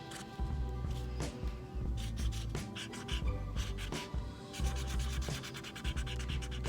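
Designs being drawn by hand on a surface: close, repeated scratchy rubbing strokes in an uneven rhythm, with short pauses between lines.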